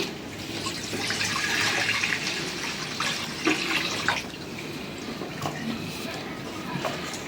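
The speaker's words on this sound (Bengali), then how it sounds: "কড়াই বসাই দেই কড়াইতে পানি দিয়ে দেই" Water splashes steadily into a pan, a continuous rushing pour up close that eases into lighter trickling and drips toward the end.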